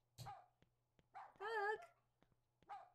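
A dog in a video game lets out short, separate yips and barks with a longer wavering whine in the middle, sparse and fairly quiet against near silence.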